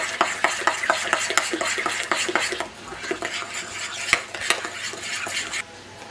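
Rhythmic clinking of a utensil whisking sugar and eggs by hand in a bowl, quick repeated taps with a soft swishing underneath, close by.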